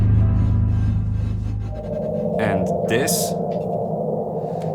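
A voice speaks briefly, then a washed-out, reverberant synthetic swell rings on with sweeping, echoing tones that slowly fade into a long tail.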